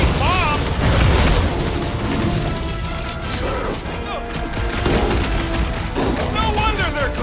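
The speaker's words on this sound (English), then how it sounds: "Added bonus of having these bombs!" Bomb blasts and gunfire in the game Guardians of the Galaxy, rapid booming bursts under lively character voices that talk through the combat.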